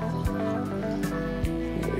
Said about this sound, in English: I'm going to pour her a cup of coffee.